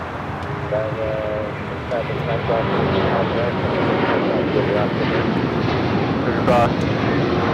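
Airliner rolling down runway 25 right at LAX bound for Tokyo Haneda, a loud continuous jet engine roar building steadily, with radio chatter and talking over it.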